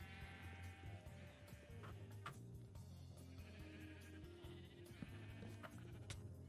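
Sheep in Minecraft bleat several times, quiet and somewhat distant, over a soft steady background hum.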